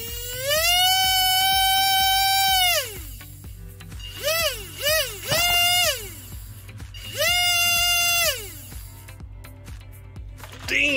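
Small hand-wound 130-size RC motor spinning up to a high-pitched whine, holding, then winding down, repeated in several bursts of varying length with short pauses between, loud and close.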